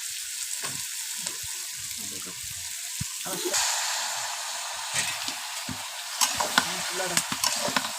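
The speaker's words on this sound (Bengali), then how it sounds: "দেওয়ার পরে এখন আমি আস্তে আস্তে লাড়বো।" Chopped bottle gourd, cut Shariatpur-style, sizzles and fries in a small wok while a utensil stirs it in scraping strokes, a steady close hiss with clatters and a louder burst midway.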